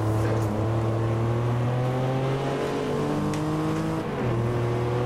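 Race car in Assetto Corsa, a Porsche against BMW and others, accelerating with a loud, steady engine drone that climbs in pitch through gear changes, close and continuous.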